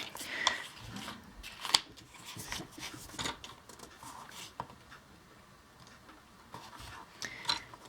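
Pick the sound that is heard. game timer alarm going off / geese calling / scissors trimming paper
scissors trimming paper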